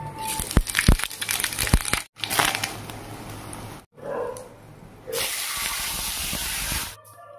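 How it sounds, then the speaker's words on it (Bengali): Eggplant pieces fry in hot oil, crackling and hissing loudly and close, in bursts broken by brief pauses, with a steady sizzle toward the end. "আর লাস্টে বেগুনগুলোকেও একটু ভেজে নিই"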